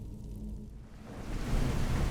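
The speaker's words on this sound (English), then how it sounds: "it seems we've come out when it's raining again" Steady rain falls in the Skyrim game world, a broad even hiss that swells louder and denser partway through, with no voices over it.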